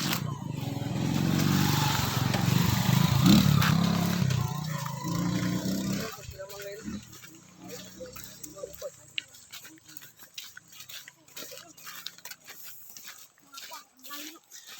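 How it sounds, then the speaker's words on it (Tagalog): Motorcycle engine droning loud and close for several seconds on a countryside ride through farmland, then dropping away to quieter ticking and rustle, with people talking over it. "Ito may motor mga kaidol."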